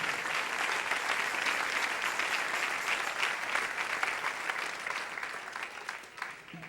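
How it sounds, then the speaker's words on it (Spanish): A church congregation applauds steadily for several seconds, a dense wash of clapping that thins a little toward the end, moderately distant. "Dale ese aplauso al Rey en esta hermosa mañana."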